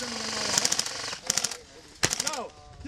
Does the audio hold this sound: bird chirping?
no